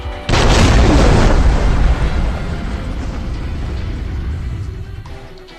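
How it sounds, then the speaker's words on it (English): A huge explosion in the video game Army of Two blasts a hole through a wall: a sudden close, loud boom followed by a long rumbling roar and debris that slowly fades. "the explosion tore a hole through the wall"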